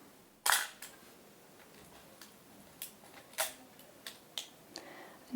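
A vintage 1970s film camera is wound on and clicked, one sharp shutter snap then a series of small ratcheting clicks at irregular intervals, close up and quiet.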